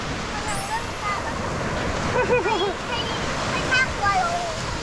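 Sea waves washing onto the beach at Hua Hin by a seawall, a steady broad rushing surf at moderate loudness with children's and adults' voices chattering over it.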